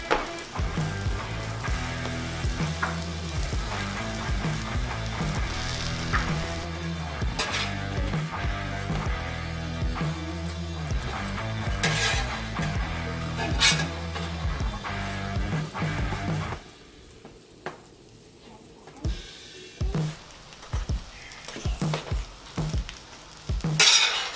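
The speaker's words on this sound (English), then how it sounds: "we're gonna put down our vessel, a nice French roll, toast it up" French roll toasting in butter on a 36-inch Blackstone griddle, a steady close sizzle under a background music bed that drops away near the end, leaving quieter frying with a few scrapes and clicks.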